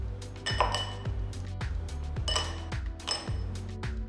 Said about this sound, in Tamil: அடுத்து கொஞ்சம் ஐஸ் கியூப்ஸ் போடுங்க.